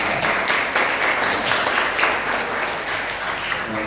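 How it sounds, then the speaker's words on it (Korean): A congregation at a Korean Sunday church service applauds, continuous loud, even clapping from a full room throughout, with a voice faintly beneath it. "네, 박수 나가겠습니다."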